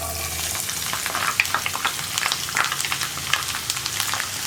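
Chopped ginger and garlic sizzling in hot oil after mustard seeds have popped, for a Kerala gooseberry pickle, a close, steady crackling fry with small irregular spits and pops.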